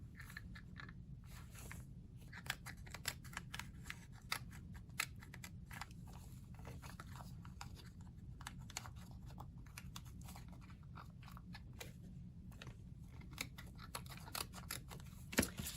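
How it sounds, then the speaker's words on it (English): Paper, vellum and card in a junk journal being carefully slit with a blade or scissors: faint, close, quick repeated snips and crisp ticks over a quiet room. "making a slit in the back very carefully, not to cut through our vellum on the front"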